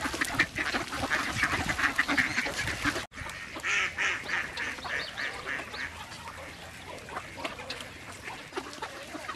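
Wood ducks in a marsh give a dense, continuous chorus of quacking and squealing calls, many birds overlapping close by, with a brief break partway through before the calling resumes.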